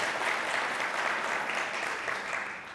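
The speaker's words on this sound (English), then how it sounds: "I've never gotten applause for the bands before" A live event audience claps in steady, moderate applause that holds evenly for a few seconds before starting to taper off.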